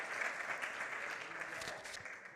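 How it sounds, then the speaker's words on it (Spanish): A church congregation applauds during a sermon, a dense burst of clapping with some voices mixed in, fading slightly toward the end. "Anita, aplaudamos con todo, amén."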